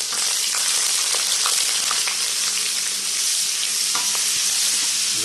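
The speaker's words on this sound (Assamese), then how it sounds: "প্ৰথমতে আদাখিনি মই দি দিলোঁ, নহৰুখিনি দি দিলোঁ" Ginger and garlic sizzle and fry in hot oil, a steady loud crackling hiss with occasional stirring scrapes, no voices.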